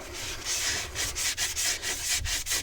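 Steady back-and-forth scrubbing with 2000-grit wet sandpaper on a boat's propeller shaft area, close and continuous, strokes pulsing in a quick uneven rhythm.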